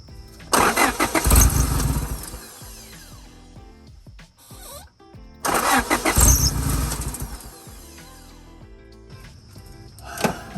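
Turbocharged Honda Civic DC2 engine cranking and catching twice, each start a loud burst that settles into a rough, uneven idle before dropping off, heard up close with no voices.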